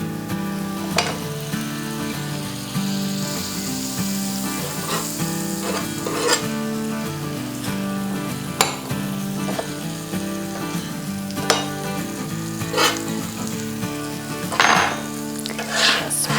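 Butter melts and sizzles on a griddle for crumpets, a steady close frying hiss with occasional clinks and scrapes of a utensil against the pan.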